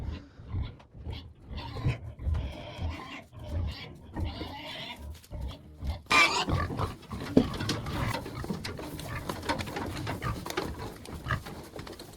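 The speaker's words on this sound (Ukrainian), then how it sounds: "Ми йдемо свинки годувати." Pigs grunting and squealing close by at morning feeding in a crowded pen, several animals at once, with rustling and movement; quieter at first, then a denser, louder stretch of grunts.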